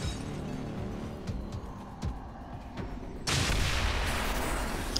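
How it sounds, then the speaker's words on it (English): A claymore mine is triggered in the video game XCOM 2, and a sudden loud blast bursts in, then holds as a broad roaring rumble after scattered sharp cracks of gunfire. "If I throw a claymore and explode it, I might be able to blow some cover."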